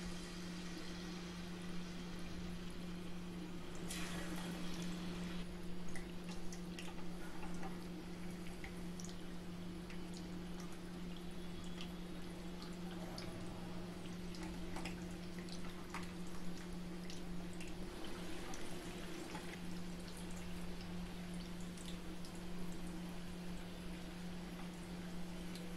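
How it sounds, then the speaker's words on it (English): Baby corn fritters frying in hot oil in a thick-bottomed pan over a medium flame, a steady quiet sizzle with soft bubbling and crackles over a constant low hum, no talking. "Drop the corns one by one and fry till it turns golden brown."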